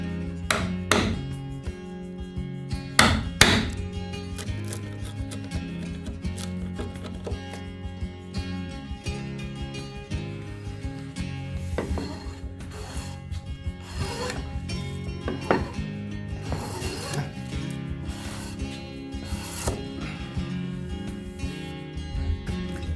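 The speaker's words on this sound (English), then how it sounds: "I'll cut the horizontal mortise in the pillar to join the threshold." A hand chisel cuts a horizontal mortise into a wooden pillar in Japanese traditional woodworking, giving repeated sharp taps and scraping, rubbing strokes at a steady working pace, fairly close and moderately quiet.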